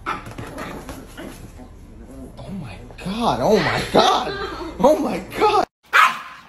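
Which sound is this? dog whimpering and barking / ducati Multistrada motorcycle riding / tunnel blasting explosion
dog whimpering and barking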